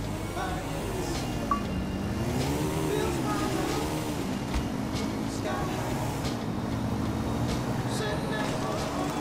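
Car engine revving and accelerating in GTA IV multiplayer: a continuous droning motor whose pitch rises and falls with throttle changes, heard under someone talking.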